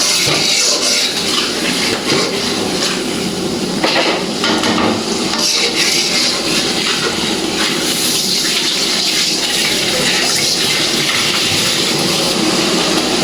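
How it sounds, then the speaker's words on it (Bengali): Fish spice paste sautés in hot fish oil for a Bengali rohu curry, giving a loud, continuous dense sizzle and frying hiss close to the pan, with faint scraping stirs throughout. "এই তেলগুলো আমি দিয়ে দিব, সুন্দর করে মাছের মশলার সাথে কষাই নিব"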